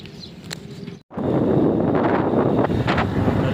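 Strong wind buffets the microphone in loud, rumbling gusts, broken by one brief moment of silence early on.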